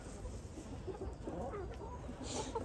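Older laying hens on a farm clucking softly in a steady low murmur, several birds close by with no one talking.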